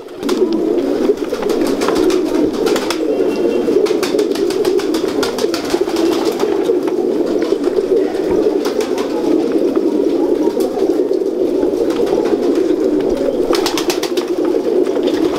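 Many pigeons coo continuously in a dense, murmuring chorus, close and steady, with occasional light rustles and flutters.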